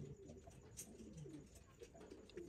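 Baby fancy pigeon cooing softly among pet birds in Oman, low murmuring coos repeating over a steady background hum, quiet and fairly close, with no talk.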